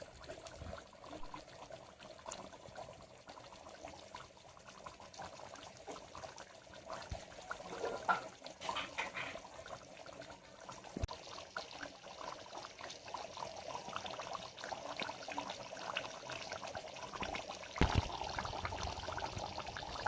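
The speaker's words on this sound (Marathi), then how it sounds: "कसे बुडबुडे वर येत आहेत, भारी वाटतंय." Water comes to a rolling boil on a wood-fired stove while chicken vade are being made. Soft, continuous bubbling and gurgling stays fairly faint, with a few louder pops and surges.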